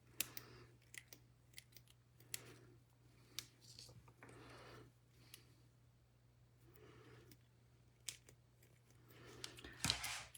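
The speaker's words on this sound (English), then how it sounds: "See if I can get this cut. These are not crafting scissors by all means." Scissors that are not crafting scissors cut through paper labels, a series of short, faint snips and crisp clicks spaced irregularly over a steady low hum, with a busier flurry of cuts at the end.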